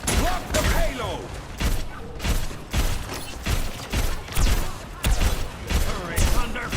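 Rapid bursts of gunfire in Overwatch, played on the Blizzard World map, repeat in a steady chopping rhythm for several seconds amid game effects and a voice talking over the action.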